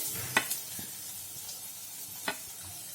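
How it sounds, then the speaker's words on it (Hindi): Grated ginger, garlic and green chili sizzle and fry quietly in a pan, a soft steady hiss broken by a few scraping stirs of a spoon. "अदरक लहसुन हमारा हल्का सा भून चुका है"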